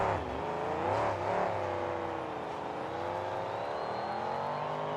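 A monster truck engine revs hard during a freestyle run at the KORR Monsters Finals, with a couple of quick throttle blips early on before a sustained, wavering roar. The pitch rises and dips as the driver works the throttle.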